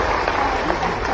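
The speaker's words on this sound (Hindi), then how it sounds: "आपकी तालियों की आवाज आती रहे तो और" A crowd at an official training programme ceremony in India claps steadily, a dense, continuous wash of applause throughout.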